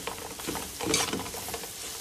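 Eggplant sautés in a pan for crab curry, a soft steady sizzle with a few scraping stirs and one brief louder burst partway through, close and without any talking.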